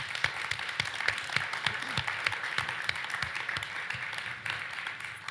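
Crowd cheering and scattered clapping from a high school basketball game nearby, a steady busy roar with sharp claps and thumps throughout, heard from behind at moderate distance.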